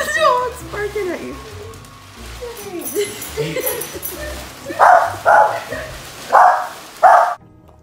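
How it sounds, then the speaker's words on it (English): A pet dog barks in a row of four sharp, loud barks near the end, after earlier whimpering and yipping sounds mixed with a person's voice talking. "What's your dog's barking at you?"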